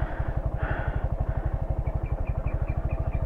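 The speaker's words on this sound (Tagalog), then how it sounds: "Biglang mamamatay yung makina." A motorcycle engine with a choking, stalling fault runs close up with a steady, rapid low thudding pulse and light mechanical clatter, running on without any clear cut-out.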